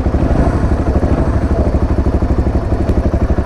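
A dual sport motorcycle engine runs close by, a loud, steady, pulsing single-cylinder idle with a rapid even thump throughout.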